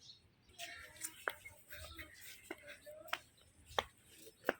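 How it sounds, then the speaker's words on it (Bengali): Fresh garden vegetables chopped with a knife on a board: a handful of sharp, irregularly spaced cuts, faint and close, over a low background murmur. "এখন কাটাকাটি করবো"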